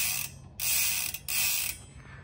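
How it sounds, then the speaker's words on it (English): The rear freewheel of a 2023 Santa Cruz 5010 mountain bike fitted with a 1-to-1 hub buzzes in two loud, rapid ratcheting bursts separated by short quiet gaps, close and clear with no speech. "with the 1-to-1 hub, which I love the sound of this hub"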